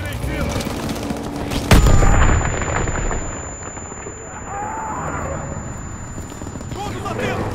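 Grenade explosion followed by gunfire in the video game Call of Duty WWII, a sudden loud blast with a ringing tone afterward, then dense crackling shots continuing under shouted voices.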